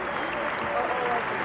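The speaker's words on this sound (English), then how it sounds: "the School of International and Public Affairs led that cheer" A graduation audience at Columbia University's School of International and Public Affairs applauds and cheers, a dense, continuous wash of clapping heard from within the hall.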